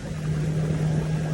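A jet ski engine hums and revs steadily nearby, one continuous droning note held for a moment with no voices over it.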